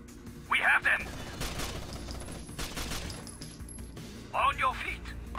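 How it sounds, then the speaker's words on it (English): Heavy automatic gunfire in Rainbow Six Vegas at Dante's Casino, with two sharp close bursts of shots at the start and end and scattered firing between, while voices call out over it. "Under heavy fire!"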